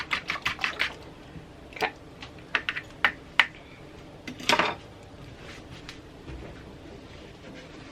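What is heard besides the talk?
whisking egg batter for fried green tomatoes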